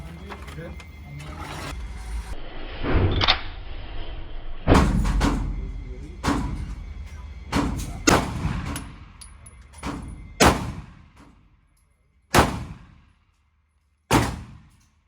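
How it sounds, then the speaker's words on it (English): Pistol shots from a Sig X-Macro ring out at a shooting range, several sharp loud reports spaced seconds apart, the first few overlapping someone talking and the last ones standing alone. "I'm gonna put down 3 more rounds just to see if we get one of these again"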